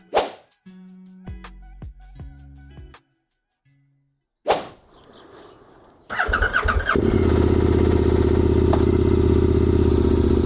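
A 2024 KTM Super Adventure S motorcycle, around 1,000 km old, comes to life after some brief handling clatter, then its engine settles into a loud, steady, close roar as the bike pulls away and keeps running without a break.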